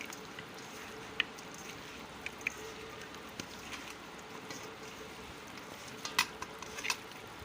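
Raw chicken wings are tossed and stirred with salt and turmeric in a bowl, giving a quiet, wet rustling with scattered soft clicks and taps, one cluster near the end slightly louder.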